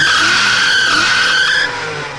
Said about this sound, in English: Well, it's a good squealing belt.